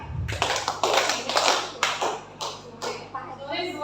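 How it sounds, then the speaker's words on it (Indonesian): A group claps together in a classroom or school activity, firm hand claps coming in bunched bursts, close and fairly loud, with some talk alongside. "Jika saya ucapkan siang, berarti tepuk tangannya 3 kali."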